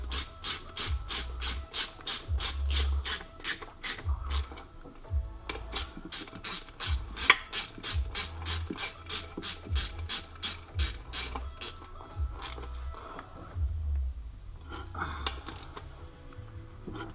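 A ratchet tightens down the shifter bolts on a Mazdaspeed 3, close and crisp, in repeated bursts of rapid clicking with brief pauses between strokes as the bolts are cranked snug, no voices.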